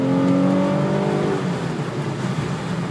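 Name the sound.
2005 Infiniti G35X car accelerating on test drive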